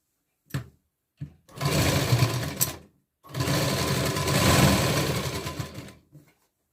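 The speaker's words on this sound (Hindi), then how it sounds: "अब हमको इसके ऊपर स्टिच करना है।" A sewing machine stitches a katori blouse: two quick short taps, then two sustained whirring runs of needle stitching, each lasting a couple of seconds, separated by a brief pause.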